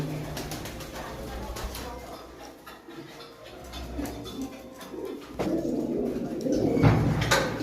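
Pigeons of an old preserved breed coo close by in a loft, soft low repeated coos over a busy background of scattered ticks and rustling, with a voice talking faintly at times.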